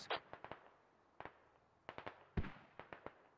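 Mortar rounds explode in the military shooter game Squad, a series of sharp, fairly faint distant blasts and cracks in irregular clusters over a few seconds.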